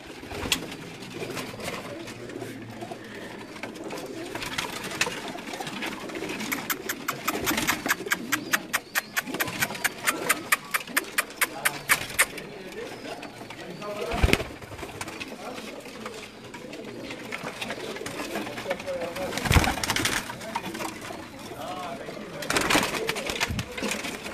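Breeder pigeons in a breeding cage coo repeatedly, close by, with a rapid mechanical clatter in the middle and people talking over them at times.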